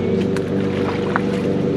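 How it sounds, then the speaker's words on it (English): A Yamaha Superjet four-stroke jet ski engine idles on a trailer at a boat ramp, a steady, close, continuous low engine drone with a few faint clicks over it and no talk. "So we're gonna let it start it and let it idle for 5 minutes on the trailer."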